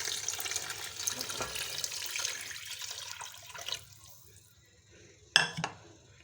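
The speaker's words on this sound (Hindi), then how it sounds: "अब मैं इसमें 3 से 4 गिलास पानी के डाल दूँगी" Water splashes and pours steadily into a cooking pot of chicken, then tapers off into quiet, followed by a brief clank of metal near the end.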